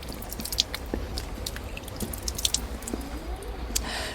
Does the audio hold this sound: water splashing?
yes